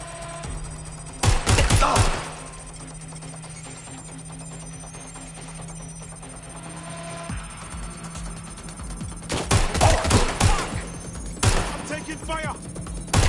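Bursts of automatic gunfire from a Watch Dogs Legion firefight, two loud volleys separated by a quieter stretch, with a voice speaking between the shots.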